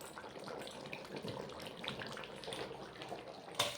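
Rui fish curry with drumsticks, potato and coriander leaves pours out in a soft, continuous liquid splash, moderately close, with a brief louder clatter at the very end.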